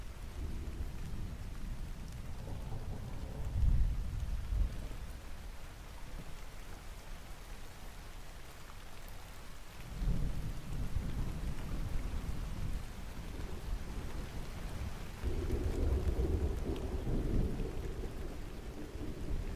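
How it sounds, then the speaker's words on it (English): Steady rain with rolling thunder, heavy low rumbles swelling around a few points and a constant hiss of rainfall on surfaces throughout, loud and without voices. "Just unpause the video and the rain sounds just annihilated my eardrums."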